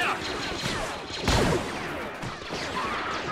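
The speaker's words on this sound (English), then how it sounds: "Why are they not firing? I'm taking too much fire!" Gunfire from the Men of War: Assault Squad 2 battle game rattles on steadily at a moderate level, with one heavier burst near the middle, and no voices over it.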